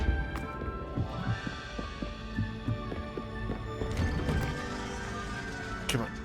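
A horse in the Hogwarts Legacy video game gallops in a steady run of hoofbeats under game music, with an occasional thud or whinny and a voice talking over it.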